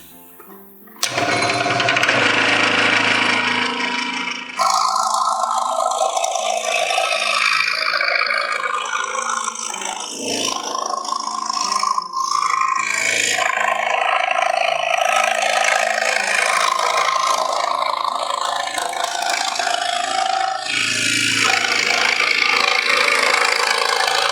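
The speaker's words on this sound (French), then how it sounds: "on passe à la découpe et vous allez voir à quel point ça se coupe facilement" Power saw cutting thin wooden crate boards, a loud steady buzzing whine that starts abruptly after a second and runs almost unbroken, with brief dips as the cut shifts.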